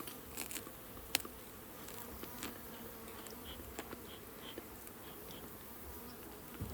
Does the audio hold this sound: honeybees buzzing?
yes